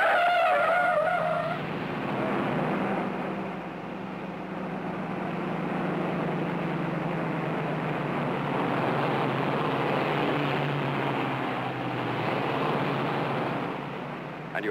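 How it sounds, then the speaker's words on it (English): A 1950s car pulling away from a standing start on a steep grade, a drawn-out tire squeal and engine strain building then holding steady for several seconds, fairly loud and close, with no talk. "And you heard that tire squeal?"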